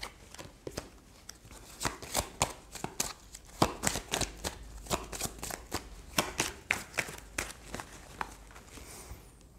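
Tarot cards shuffled by hand during a card reading, a rapid series of crisp riffling slaps and flutters in irregular bursts, close and fairly quiet with no talk.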